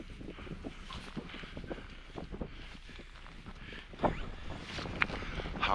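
Wind gusting across open high ground in the freezing Yorkshire Dales, a steady buffeting rush against the microphone with louder gusts near the end.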